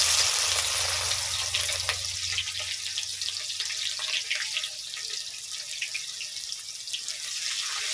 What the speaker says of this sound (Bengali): এবারে তেলের মধ্যে দিয়ে দেবো পেঁয়াজ কোচানো